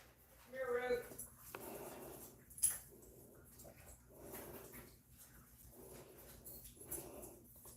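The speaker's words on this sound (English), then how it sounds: "Dog wants to go in there and eat cat food." A dog whimpers and whines in a home setting, hoping to get at the cat food, in soft high cries that come and go under someone talking nearby.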